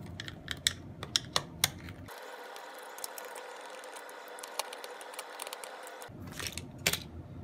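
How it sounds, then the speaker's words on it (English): A screwdriver backs Phillips screws out of a toy lightsaber handle, giving faint, quick ratcheting clicks and small scraping ticks close by, with a brief denser stretch in the middle. "Now unscrew any Phillips screws you find in the handle."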